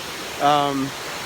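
A creek at the bottom of a hill on a beach trail in Tomlinson Run State Park gives a steady, broad rushing hiss. A brief voice sounds over it partway through.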